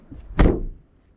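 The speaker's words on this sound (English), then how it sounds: "the noise the door does when you close it is not that great" Door of a 2021 Mazda CX-30 GS shutting once, a single close thud with a short rattly tail and nothing after it.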